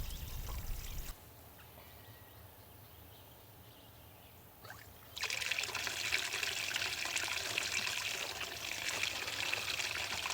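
A small pump moves water for bees on a hot day: after a quiet stretch, an even trickling and splashing flow starts up and continues close by.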